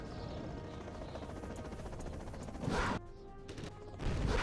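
A Chinook helicopter in a real-time strategy game, a steady rotor drone running throughout with sharp crashes and bursts of game fire breaking in near the end.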